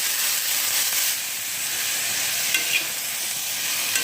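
Vegetables sauté in a hot pan with a loud, unbroken hissing sizzle that holds steady throughout, joined by a couple of faint clicks from stirring, with nobody talking.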